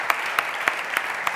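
An audience at a film-industry event in Teruel applauds producer Manuel Cristóbal; a brief round of clapping with a few sharper, evenly spaced claps standing out above the steady patter.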